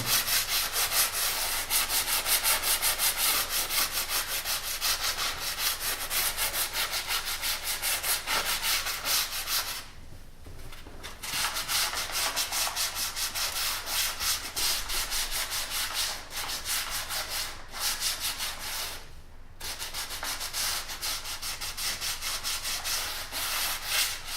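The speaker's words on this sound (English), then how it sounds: "all we're going to start doing is sanding down" Continuous rhythmic scratching of sandpaper rubbing against a rounded wall corner being repaired, with two brief pauses before the steady back-and-forth strokes resume.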